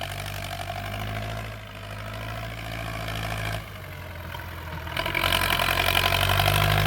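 A Ford 6600 tractor ploughs a watermelon field, its diesel engine chugging steadily at close range, with a brief dip and then a louder, harsher surge toward the end; no one speaks.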